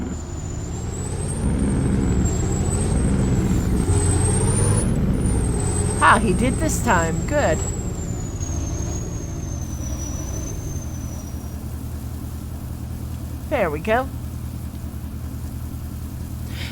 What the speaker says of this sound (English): You gotta love the sound of engine compression brakes.